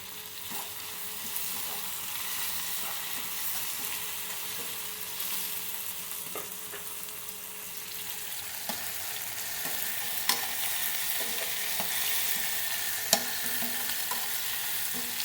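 Vadagam fries in sesame oil for a catfish curry, giving a steady, close sizzle with occasional faint stirring scrapes and small clicks, no voices over it.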